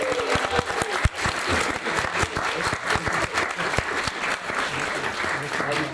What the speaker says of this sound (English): Big round of applause for the whole panel today.